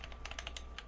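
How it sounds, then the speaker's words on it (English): Rapid clicks from a game controller's right trigger (R2) being spammed, close and steady like fast typing on a keyboard, with no voices. "you making that typing sound makes me think that Richtofen's still typing into the fucking computer"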